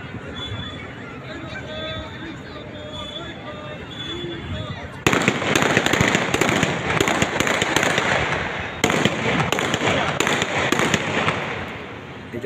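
Firecrackers pop and crackle in dense, loud bursts on a high school ground during a 75th-anniversary celebration with a parade. Before the bursts start, a crowd murmurs in the background.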